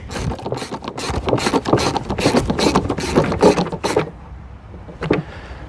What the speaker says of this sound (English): You can hand tighten the screws up.